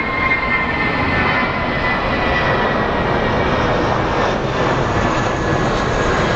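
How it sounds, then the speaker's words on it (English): A Southwest Airlines jet lining up on the runway at Phoenix Sky Harbor gives off a loud, steady engine roar and whine that holds evenly throughout, with no talk over it. "the Southwest that is lining up at the end of the runway is headed to Puerto Vallarta"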